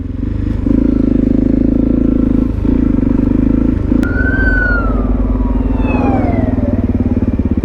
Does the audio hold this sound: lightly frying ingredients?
no